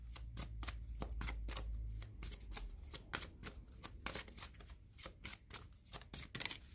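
Tarot cards being shuffled and drawn by hand, a steady run of crisp, close riffling snaps and flicks with no voice over them.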